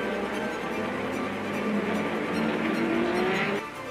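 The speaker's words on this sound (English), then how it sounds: "Jim Clark has made the better getaway" 1960s Formula One race cars, a Lotus and a BRM, accelerating away from the start, a loud continuous engine roar with rising pitch as they pull away, no speech.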